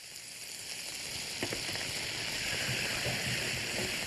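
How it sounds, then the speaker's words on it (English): Slivered garlic, ginger and strips of beef sizzle in peanut oil in a hot wok. The frying crackle is steady and close, building slightly louder as the meat goes in. "After coating it with some peanut oil, we toss in some slivered garlic and ginger. After that starts to sizzle, we add some strips of beef."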